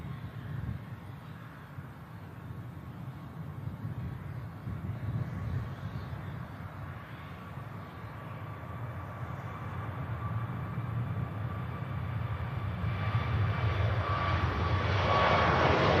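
A Turkish Airlines jet takes off at Manchester Airport, its engine roar a steady broad rumble that grows steadily louder and brighter toward the end as the aircraft powers down the runway.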